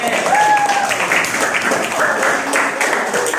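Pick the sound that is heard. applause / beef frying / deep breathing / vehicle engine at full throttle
applause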